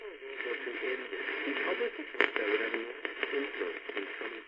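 AM radio static hisses through a narrow band on a Panasonic R-1493 portable, tuned near 530, with voices murmuring faintly beneath and one sharp crackling pop midway, plus scattered smaller clicks.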